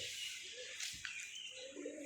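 Pigeons coo softly on a rooftop, a few low murmuring calls against a faint background hiss, somewhat distant.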